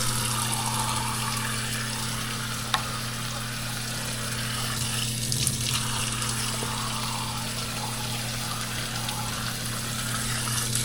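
Hush puppy batter fries in oil, sizzling and crackling steadily, a continuous frying hiss with a low hum underneath, fairly close and even throughout.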